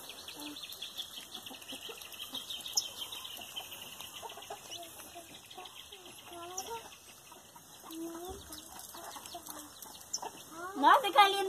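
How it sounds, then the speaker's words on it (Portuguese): Chickens cluck and a rooster of the giant Indian breed calls on a rural farm, with scattered overlapping clucks throughout, near to mid-distance, and a louder flurry of calls at the end. "Olha a galinhada aí"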